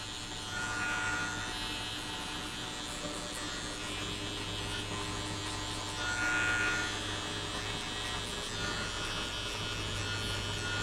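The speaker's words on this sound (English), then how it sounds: "Now I'm using my trimmer." An electric hair trimmer buzzes steadily and close up while giving a buzz cut, a continuous high-pitched whine with slight swells in loudness as it moves across the head.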